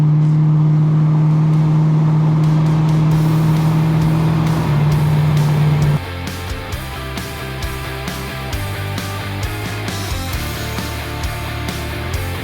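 A Holden Commodore VH drives over rough, potholed bitumen, giving a loud steady engine drone with a strong low hum. Midway the tone drops and grows rougher, with irregular knocks and rattles from the uneven surface.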